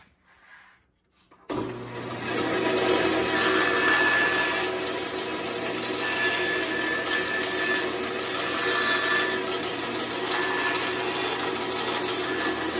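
A power saw starts abruptly after a short quiet moment and then rips lengthwise through wooden sides for clamshell frames, running at a steady, loud, even pitch that carries on without pause and with no talking.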